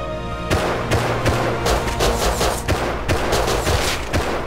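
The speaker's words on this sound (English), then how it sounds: "Is that my P2 he's shooting me with?" P2 pistol fire in the Rust video game, a loud series of punchy shots popping every half second or so in an uneven rhythm, close and dominant throughout with no talking.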